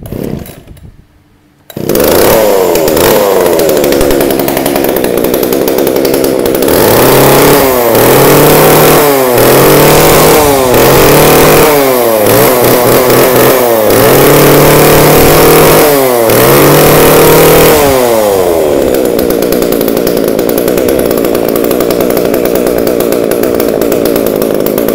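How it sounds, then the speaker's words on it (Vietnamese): Makita Q7 chainsaw with a 37 mm cylinder roaring loudly after being pull-started, revving up and down repeatedly before settling to a steady high run, close by with no talk. "em giật nổ để các bác nghe thử mã số cho mình là cây Q7 con Makita này"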